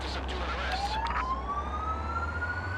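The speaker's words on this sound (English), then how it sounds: "This is your primary siren." A police siren tone in the game Police Simulator sweeps steadily upward over a constant low engine rumble, sounding synthetic and continuous rather than distant or echoing.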